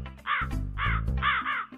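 Cartoon crows caw loudly and close in a quick overlapping burst of harsh, nasal calls, three or four in under two seconds, with no talking.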